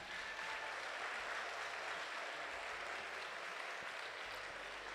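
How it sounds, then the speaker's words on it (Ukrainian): Steady audience applause fills the hall at an anniversary sports club celebration and awards ceremony, dense and continuous for the full stretch, with no speech over it. "Ваші оплески!"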